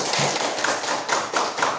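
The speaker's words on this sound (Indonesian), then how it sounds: "Ya, tepuk tangan." A grade 5 classroom of pupils clapping during an Islamic studies lesson, with dense, steady hand claps forming a loud, rhythmic patter close by and no talking over it.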